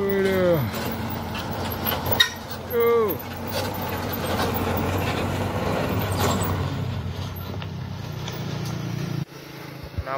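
A tanker truck pulls out onto the road amid heavy traffic, with a rumbling diesel engine, passing vehicles and a squealing air-brake hiss, while people talk nearby.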